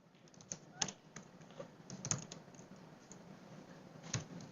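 Fingers type on a computer keyboard in a quiet room, soft scattered keystrokes with a few sharper clicks, faint and close.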